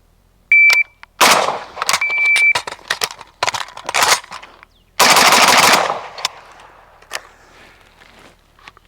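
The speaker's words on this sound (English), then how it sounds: "Come up, fire 1 round, we'll go dry, I'll reload and fire the rest of the 6 rounds." A WASR 10/63 rifle fires loud, sharp shots in a bill drill at a shooting range: a single round, a pause with metallic reload clatter, then a rapid string of closely spaced shots, with timer beeps at the start.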